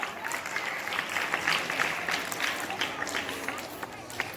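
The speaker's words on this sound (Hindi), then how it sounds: "please give a big round of applause" Crowd applause at a school Republic Day celebration, a busy wash of many hands clapping at steady volume, with some voices and cheers mixed in.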